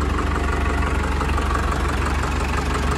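A Mahindra DI 35 tractor engine idles quietly with a steady, even low diesel rumble and chugging throughout, close by and without speech.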